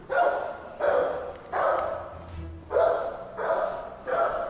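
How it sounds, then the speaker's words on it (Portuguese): A dog barks six times in a steady, evenly spaced series, loud and close, at night around a house where an alarm went off. "mas que cachorro que é esse?"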